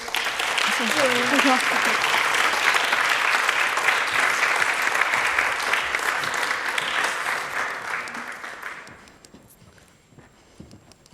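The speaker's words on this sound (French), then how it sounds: "applaudissez Elisabeth et Élise" Audience applause closing an evening's final round of a youth debate contest, dense and sustained for about nine seconds with some voices in it, then fading quickly to near silence.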